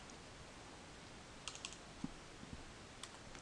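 Someone types on a computer keyboard, producing a handful of faint, scattered keystroke clicks over quiet background hiss.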